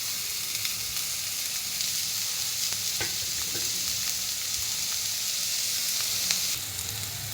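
Finely chopped onions fry in oil in a pan for a cabbage Manchurian, with a steady, loud sizzling hiss and a few stirring clinks close to the pan.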